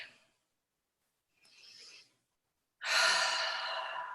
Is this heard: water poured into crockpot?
no